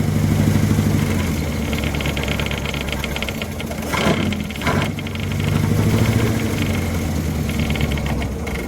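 An abandoned classic car engine runs roughly and struggles to idle, a loud close uneven throbbing rumble that dips and surges, with a couple of brief revs near the middle.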